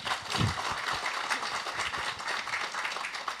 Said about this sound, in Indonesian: Tepuk tangan tuh Mbak Flah